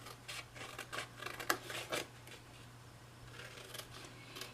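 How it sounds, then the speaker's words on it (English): Paper snips cut along scored lines in paper while making Christmas boxes, a run of crisp, quick snipping strokes close by, bunched early then tapering off, with no talking. "So we're going to cut on our score lines."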